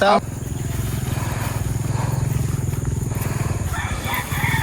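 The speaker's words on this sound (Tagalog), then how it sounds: "Ito po aking motor sa tapat." A motorcycle engine idles nearby with a steady low, pulsing chug that runs almost the whole time, while voices chat over it.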